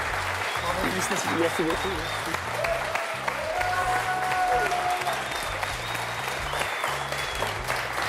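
Studio audience applause on the French quiz show Questions pour un champion as champion Claude wins the jackpot with a fifth consecutive victory: loud, dense, sustained clapping with a voice speaking over it.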